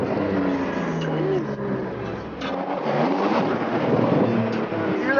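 A car engine revs and rumbles with exhaust crackle while driving toward Beverly Hills, heard close from inside the car under a continuous low roar, with people talking over it.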